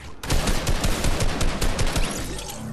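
Rapid bursts of gunfire from a combat shotgun in the Fortnite battle royale game, a dense run of loud sharp blasts and impacts filling nearly three seconds.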